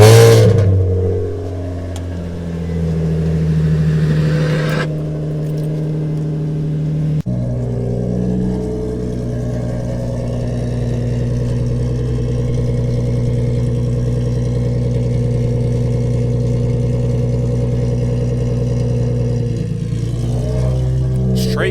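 An Infiniti G35 with a VQ engine and straight pipe exhaust drones loudly and steadily near the microphone, settling into a sustained rumble after a brief drop in pitch early on. A voice speaks over it.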